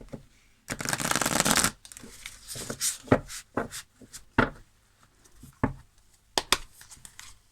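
Tarot cards being shuffled at a reading table, a dense riffle burst followed by a run of short, close papery snaps and slaps at an uneven pace, with no voice over them.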